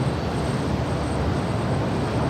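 An airplane takes off at LAX, a loud continuous roar of jet engines with broadband rumble filling the whole moment, steady and close, with no talk.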